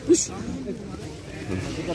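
One short bleat, likely a lamb's, near the start, followed by people talking over a low outdoor background at a livestock market.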